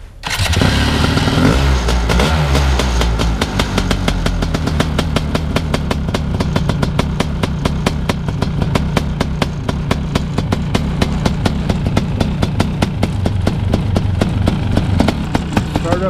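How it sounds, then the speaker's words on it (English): A BRC 500 snow bike engine in 13 degree Fahrenheit cold, fitted with a 40 millimeter smart carb and power CDI ignition, catches after a brief crank and settles into a loud, steady, rapidly pulsing idle close by. "Start up and idle is very good."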